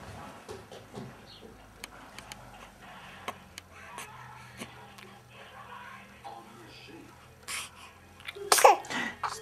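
Baby sneezing once, loud and close, near the end of a quiet indoor stretch with scattered small clicks and soft murmurs before it.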